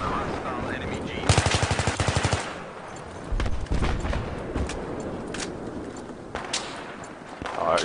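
Gunfire in a Battlefield 3 multiplayer match: a rapid automatic burst, then scattered sharp single shots and cracks of varying loudness, some near and some distant, over steady game ambience.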